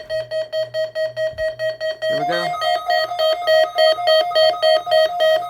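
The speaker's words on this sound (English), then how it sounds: "You have just heard a text of the National Weather Service radio warning alarm feature" NOAA Weather Radio warning alarm test from a National Weather Service transmitter: a steady, loud, pulsing electronic tone that repeats at an even rhythm. A brief voice is heard partway through.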